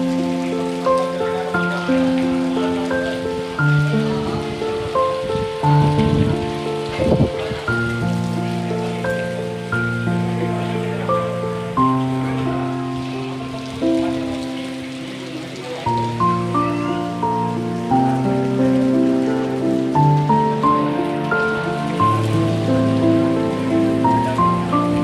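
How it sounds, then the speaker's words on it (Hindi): Heavy, non-stop rain pours steadily over Hyderabad, a dense continuous wash of drops on surfaces with a strong tonal layer running beneath it and no talk. "स्टॉप बारिश हो रही है, नॉन स्टॉप बारिश हो रही है।"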